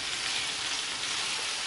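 Cutlets frying in a pan give off a steady, close hissing sizzle with fine crackling spatter, continuous and without voices.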